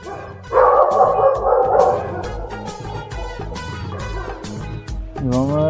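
A dog barks and yips repeatedly at a night-time food delivery rider, the barks sharp and fairly close, set over a steady road and engine hum, with a whine near the end.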